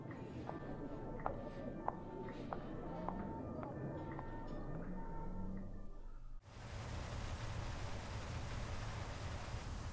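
Rain in the video game Driver 3: a steady hiss of falling rain with faint tonal notes in the first part, then a denser, louder wash of rain noise for the rest.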